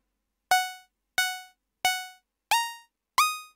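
Synthesizer notes with glide and legato portamento, five short plucked tones in a steady rhythm, each bending in pitch at the attack and decaying quickly, clean and isolated against silence.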